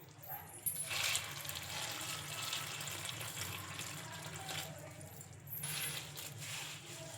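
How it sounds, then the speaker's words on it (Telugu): Water pouring into a bowl of puffed rice in a home kitchen, a soft continuous splashing trickle with faint clinks near the start and a slight surge later, fairly quiet and close. "ఇప్పుడు ఇందులోకి వాటర్ అయితే వేసుకోవాలి మునిగే వరకు."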